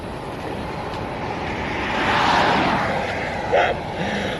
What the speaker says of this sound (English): The train is ruining the signal.